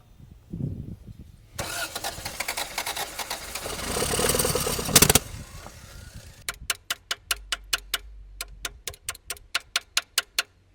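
A 1980s Toyota AE82 Corolla FX hatchback, abandoned and with a fault, cranks hard for several seconds with a loud whirring starter that does not catch. Then comes a run of sharp, evenly spaced ticks or clicks.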